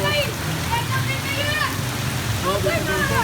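Heavy rain pours in a dense, continuous hiss while voices talk over it nearby.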